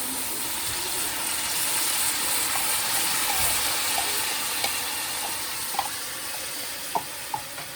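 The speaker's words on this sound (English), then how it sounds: "you see it's sizzling here." Chicken and onions for masala kadai chicken sizzle steadily in a hot pan, a continuous crackling hiss with a few small pops and clicks toward the end, no talking.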